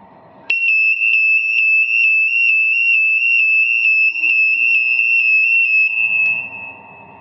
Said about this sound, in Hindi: आग लगने पर फायर अलार्म को एक्टिवेट करके तुरंत आग लगने